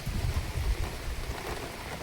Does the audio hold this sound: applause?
no